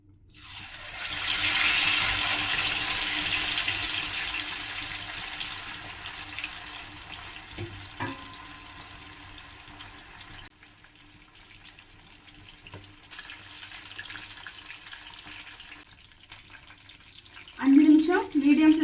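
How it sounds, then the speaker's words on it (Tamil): Quail frying in hot oil over a medium flame gives a steady, loud sizzle that fades gradually over the span, then turns into louder crackling bursts near the end. "அஞ்சு நிமிஷம் மீடியம் ஃப்ளேம்ல ஃப்ரை பண்ணிட்டு இருந்தேன்."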